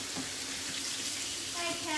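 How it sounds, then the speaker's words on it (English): A kitchen tap runs steadily while hands are washed under it, a close, continuous splashing hiss lasting about two seconds, with a voice faintly audible underneath. "I just washed my hands again"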